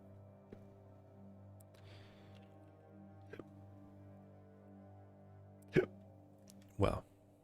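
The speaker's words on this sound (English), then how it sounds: "I get hiccups all of a sudden" A man hiccups twice, short sharp gulping bursts close to the microphone, after a few softer mouth sounds over a quiet electrical hum.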